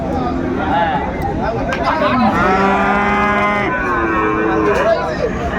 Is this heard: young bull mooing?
yes